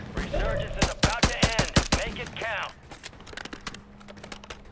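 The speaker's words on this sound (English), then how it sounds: "Bro, there's another team shooting me" Rapid bursts of gunfire from an opposing team in the Warzone video game crack out in a dense volley for about two seconds, loud and close, with players talking over it before a quieter stretch.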